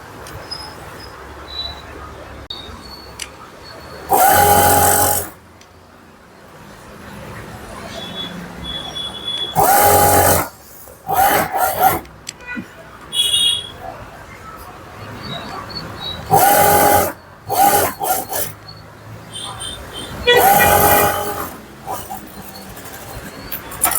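A sewing machine stitching a sleeve onto a garment runs in four short bursts separated by quiet pauses, with faint handling noises in between.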